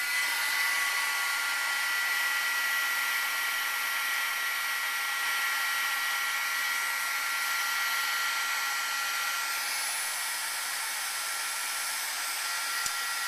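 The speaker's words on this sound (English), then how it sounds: "So I'm just going to move this aside for a second before I get out my heat gun." A heat gun melting embossing powder blows a constant, loud, airy whir for the whole stretch, with no pauses or talking.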